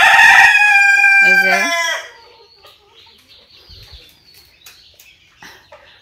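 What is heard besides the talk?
Fayoumi hens clucking and rooster crowing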